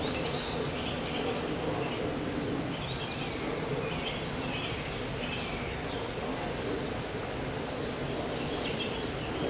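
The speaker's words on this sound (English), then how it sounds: "I've got a couple of bees in here looking at the queen." Honey bees buzz around a queen at a re-queened swarm hive outdoors, a continuous low droning hum with faint wingbeat flickers, fairly quiet and steady throughout.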